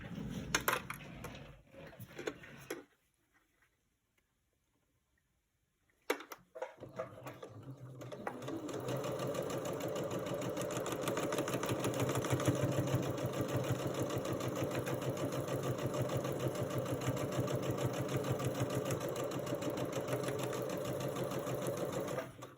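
A sewing machine stitches quilt pieces, a few short bursts and then a silent gap before it runs in a long, steady, fast whirring hum up close.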